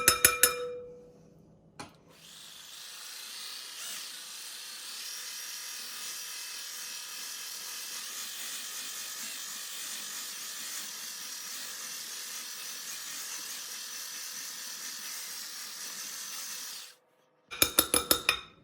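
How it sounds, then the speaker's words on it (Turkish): A milk-based dessert cream is whisked in a bowl, a continuous steady whirring for about fifteen seconds, framed by brief clinks and clatter at the start and end. "Şimdi şu şekilde ilave ediyorum hepsini beraber çırpacağım."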